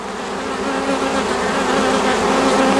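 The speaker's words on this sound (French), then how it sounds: "Je vais attendre que toutes les abeilles se fixent" A swarm of honeybees clusters around its queen on a bending branch of a young apple tree, a loud, dense, continuous buzzing drone close by with no talk over it.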